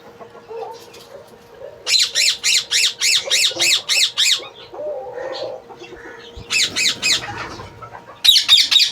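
A pied male ringneck parrot kept in a breeding aviary lets out rapid runs of loud, harsh squawks, two bursts of about eight calls and then a final close, louder run, with quiet gaps between.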